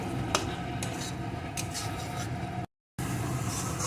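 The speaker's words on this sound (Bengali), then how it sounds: "এখন ভেজে রাখা আলুগুলোকে এর ভিতরে দিয়ে দেবো আলুগুলো একটু মশলার সাথে কষিয়ে নেব" Fried potatoes are stirred and sautéed with spices in a pan while cooking a Sundarban crab curry: a steady sizzle with soft scraping and clinks of a spoon, moderately quiet, broken by a brief gap.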